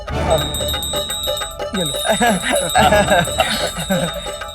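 Small bells hanging from a dhoti jingle repeatedly in a Tenali Rama TV drama scene, bright metallic tinkling that runs throughout, close and fairly loud, with background music and voices underneath.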